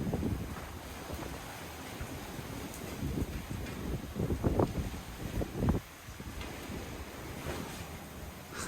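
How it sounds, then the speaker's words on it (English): Wind gusts buffet the microphone outdoors in Texas as a storm arrives, rough low rumbling bursts rising and falling over a steady hiss that may carry rain. "Here comes the wind and the rain."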